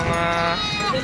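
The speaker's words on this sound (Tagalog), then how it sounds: "Mga inahin na kambing" A female goat bleats in a drawn-out, wavering cry, close and fairly loud, with farm background noise around it.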